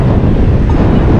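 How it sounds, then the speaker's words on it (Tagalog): Loud, roaring wind buffets the microphone continuously while riding near Laois Beach, Labrador, on the West Luzon Loop, a dense rumbling rush with no voices. "Ang lakas makalaspag ng hangin."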